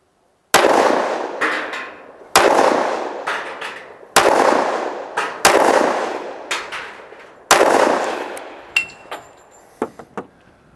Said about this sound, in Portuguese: Vamos lá, fazer 5 disparos.